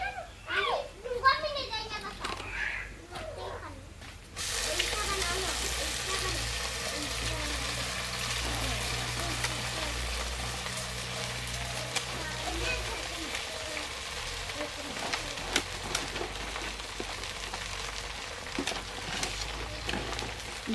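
Kalmi saag greens dropped into a pan of fried onion and garlic, breaking into a steady loud sizzle that continues while someone talks over it and children's voices sound in the background.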